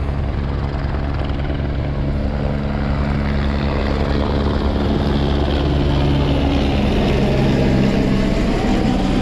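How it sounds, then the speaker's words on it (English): A helicopter flies in and descends to land beside a stunt setup, a loud continuous rotor thrum and engine whine with steady low pulsing throughout, no voices. "the helicopter is bringing John down and landing him on top of the General Lee"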